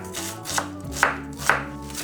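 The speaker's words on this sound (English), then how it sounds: "finely chop some onions" A knife chops onions on a board with three crisp, evenly spaced strikes over soft background music.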